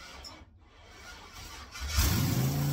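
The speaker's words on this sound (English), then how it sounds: "That's an 8-cylinder, starts at no problem." A V8 car engine with a dead, uncharged battery cranks on a lithium jump starter and fires up near the end, settling into a loud, steady run.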